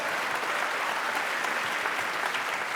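Audience applause at a comedy stand-up show, a full, even burst of clapping that holds steady without any speech.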